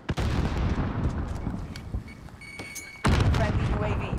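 Gunfire in Call of Duty Modern Warfare, a sniper-focused match on Xbox One, comes as scattered shots from different spots, with a loud sharp burst near the end over steady game ambience.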